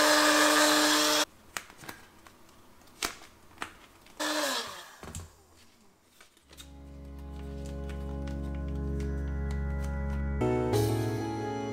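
A heat gun blows steadily on vinyl wrap stretched over Ford Fiesta ST180 interior parts. It is a continuous close hum that comes and goes between clicks and handling noises, then runs loud and sustained toward the end.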